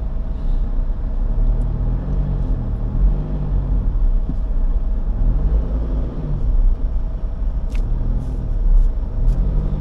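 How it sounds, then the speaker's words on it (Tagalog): Rush hour traffic flows southbound on the elevated Skyway near Makati, a steady dense roar of passing cars and buses with rising and falling engine tones and occasional faint squeaks. "Traffic pa southbound."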